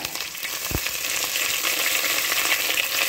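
Green chilies, shallots, curry leaves, garlic and mustard seeds sauté in hot oil for a bitter gourd gravy, a steady, close hiss of sizzling that runs evenly throughout with a faint tap near the start.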